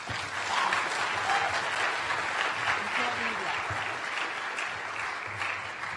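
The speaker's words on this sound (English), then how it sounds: "So please give her a round of applause." Steady applause from an audience at a high school senior recognition night honoring a student, a dense continuous wash of clapping that holds level throughout, with faint voices mixed underneath.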